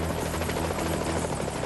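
A helicopter hovering as it is held over a limo during a world record attempt, with a loud, continuous rotor thrum and engine whine filling the whole moment.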